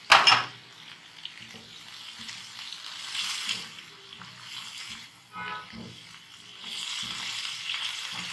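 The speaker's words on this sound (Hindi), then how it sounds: "अब हमने चनों को इन मसालों में इतनी देर पकाना है कि ये बिल्कुल अच्छे से नरम हो जाए" Chickpeas simmer and fry in a spiced masala with yogurt and chaat masala for a chana samosa filling, giving a soft, steady sizzle with occasional stirring scrapes after a brief clatter at the start.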